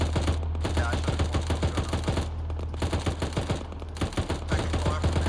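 Continuous automatic gunfire in the ArmA 3 video game during a snowy military operation with Australian forces, steady rattling bursts over a constant low hum, fairly loud throughout.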